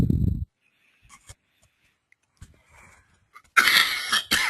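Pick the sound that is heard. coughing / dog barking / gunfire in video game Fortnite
coughing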